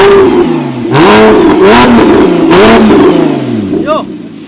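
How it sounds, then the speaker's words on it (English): A BMW M2 Competition or M3 Competition with a VIE valved exhaust held open revs hard, with loud rising and falling blips and a throaty, up-close roar throughout. "Testing the exhaust."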